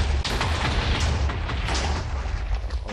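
Massive chain of TNT explosions in Minecraft, a dense, continuous roar of overlapping booms and rumbling blasts filling the whole stretch at high loudness, with no talking.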